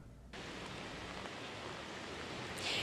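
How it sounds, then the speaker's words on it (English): Heavy rain pours on a neighborhood in Carolina Shores, Brunswick County, as a steady, dense hiss that starts abruptly and stays even, growing slightly louder at the end, with no talking. "The rain is coming down pretty hard."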